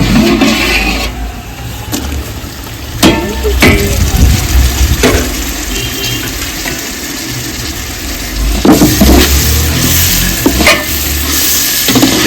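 Tomatoes sautéing in a pan for a seeraga samba veg biryani: a loud, continuous sizzle with repeated scraping and clanking of the spoon stirring through the pan.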